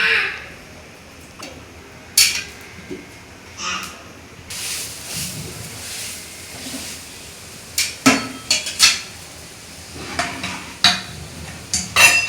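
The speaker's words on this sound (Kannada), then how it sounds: "ಅದ್ರ ಸಂಬಂಧ ಗೋಧಿ ದೋಸೆ ಹಾಕ್ತೀನಿ" Wheat dosa cooks on a pan in a home kitchen, with soft sizzling under a string of sharp scraping and tapping hits from a spatula at irregular intervals and no talking.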